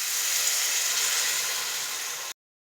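Water from a mixer jar poured into a hot pan of egg masala sets off a loud, steady sizzling hiss that holds for a couple of seconds, then cuts off abruptly into silence.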